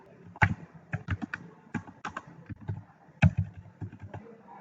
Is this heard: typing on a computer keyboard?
yes